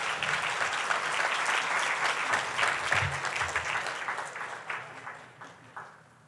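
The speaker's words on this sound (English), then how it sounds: "Give yourself a round of applause for the great work you do." An audience at a violence prevention conference general session applauds loudly with dense clapping, which then thins out and fades to a few scattered claps at the end.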